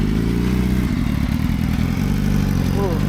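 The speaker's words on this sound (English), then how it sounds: "was that a Gixxer pulling up?" A Suzuki Gixxer motorcycle idles and rumbles as it pulls up at a bike night, its low engine drone steady and fairly close amid outdoor ambience.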